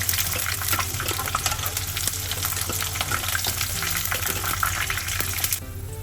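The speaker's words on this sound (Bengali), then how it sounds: "যেভাবে আমি এঁচোড়টা ভেজে নিয়েছি" Jackfruit pieces fry in hot oil in a pan, giving a loud, continuous crackling sizzle with occasional stirring scrapes throughout.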